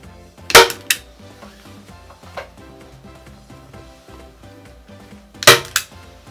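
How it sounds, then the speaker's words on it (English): A staple gun fires into fabric stretched over a homemade ironing board: two sharp, loud snaps near the start, a softer click midway, then another pair of loud snaps near the end, with quiet handling between. "fold your edges in, and start to staple again"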